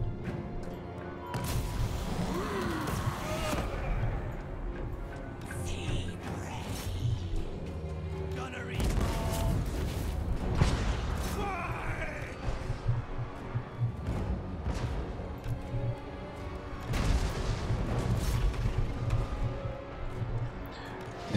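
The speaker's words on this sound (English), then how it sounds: "We got Mortar, Mortar, and Queen Bess." Mortar and cannon fire, including the Queen Bess cannon, in Total War Warhammer II during a siege on a gatehouse, repeated distant booms and crashes scattered through continuous battle noise with someone talking over it.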